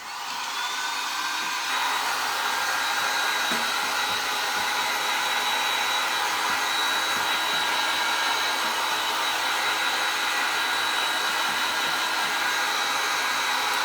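A hair dryer blows a steady, loud, continuous whir over a freshly painted stars-and-stripes craft piece for the whole stretch, with no talking.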